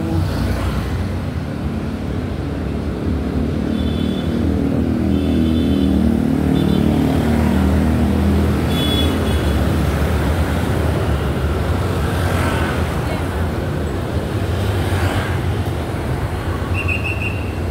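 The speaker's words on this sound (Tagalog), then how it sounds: "Busy ng mga sasakyan dito." Steady roadside traffic on a busy street, cars and motorcycles passing continuously in a dense, constant rumble with occasional brief horn-like tones, no talk.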